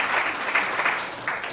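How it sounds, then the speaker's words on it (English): Audience clapping at a book reading event, a short burst of steady applause heard fairly close, with no one speaking over it. "Thanks for clapping for that."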